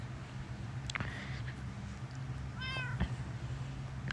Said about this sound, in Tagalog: Yan yung pusa niya na cute.